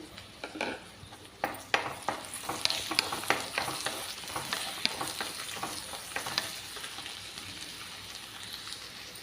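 Okra and green chillies frying in oil in a pan, giving a steady, fairly quiet sizzle with a few sharp crackles and the scrape of stirring near the start.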